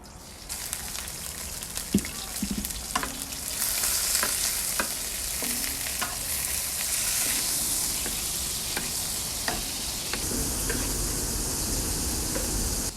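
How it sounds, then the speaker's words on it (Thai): Shrimp drop into hot vegetable oil in a wok and sizzle loudly, a steady hiss joined by clinks and scrapes of stirring, close and continuous without speech. "น้ำมันพืชครับ ก็เดี๋ยวจะลวนกุ้งก่อนนะครับ เอากุ้งลงไปลวนก่อนครับ"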